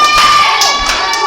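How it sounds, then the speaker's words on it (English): A wrestling crowd roars continuously at an event, a loud, dense wall of cheering and shouting with bursts of higher yells rising above it throughout. "Dave Jameson getting the crowd strongly behind him."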